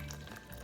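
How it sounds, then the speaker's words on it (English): Hot homemade chicken stock being poured for pressure canning, a close, steady liquid rush with a sizzling, hissing texture, heard alone without talk. "we're gonna go ahead and pour this hot stock in"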